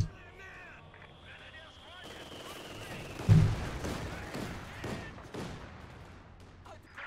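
A 120mm mortar firing in Company of Heroes 2, heavy booming launches and impacts amid battlefield gunfire under a caster's ongoing commentary.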